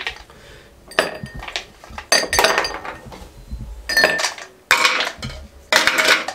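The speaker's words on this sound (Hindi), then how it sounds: "इस तरीके से आइस क्यूब हमने डाल दी।" Ice cubes clatter and clink into glasses while a tapioca milk drink is prepared, coming in several loud, bright bursts of rattling with short gaps between them, close up and without speech.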